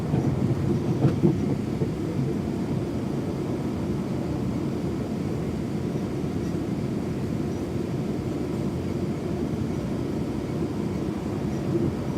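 A deep, continuous rumble of a train rolling past, steady and low throughout, with a faint knock near the start.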